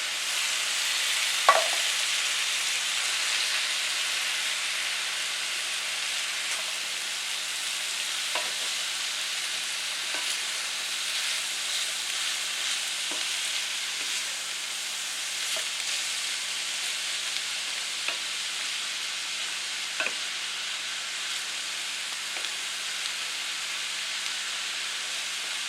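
Ground beef and green beans sizzling and frying in a pan, a constant bright hiss with occasional soft clicks and stirring taps, close and steady with no talk.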